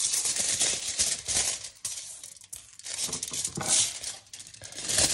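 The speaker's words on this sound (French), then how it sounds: "vous allez découper bien les bords des feuilles" Crinkling and tearing of aluminium foil sheets as their edges are cut, close and continuous, with irregular crackly bursts and brief pauses, no talking.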